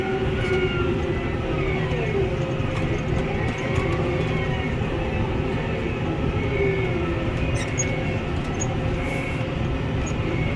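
A high density hay baler driven off a tractor's PTO works a second-cutting hay field, giving a steady, loud mechanical drone with a constant low rumble and churning machinery noise throughout, with no talking.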